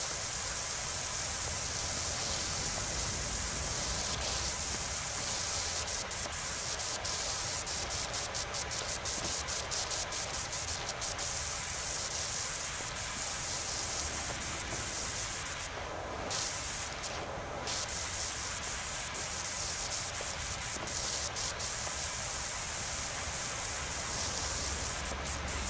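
Pressure washer spraying in the video game PowerWash Simulator 2, a steady, loud hissing spray that runs almost continuously, with a couple of brief breaks where the nozzle cuts off before resuming.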